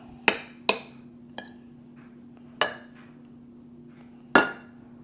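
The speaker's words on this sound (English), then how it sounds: "So I'm going to mix this all together right here." Utensil clinks and taps against a bowl while cornbread batter is mixed, five sharp separate knocks with pauses between them, close by over a steady low hum.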